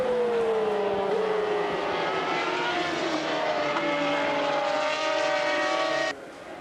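Ferrari Formula 1 car engine at the Finali Mondiali show, a loud high-pitched screaming note sweeping down and back up as the car passes, holding steady before cutting off abruptly near the end.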